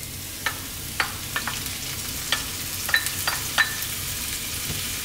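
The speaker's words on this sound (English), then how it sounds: "We're going to drop in our chopped garlic, our sliced onions," Chopped garlic, sliced onions and bacon fry in a pan over medium heat, a steady close sizzle broken by repeated sharp scraping and tapping of a stirring utensil.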